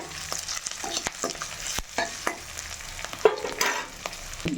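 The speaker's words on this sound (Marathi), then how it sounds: "करी लीज टाकत आहे तेल उडत असते" Curry leaves hit hot oil while tempering green-chili fried rice, giving sharp close-up crackles and pops over a steady sizzle, with occasional stirring and no voices.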